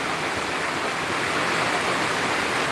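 Heavy rain drums on a tin roof as a steady, dense, even roar with no breaks, close and loud.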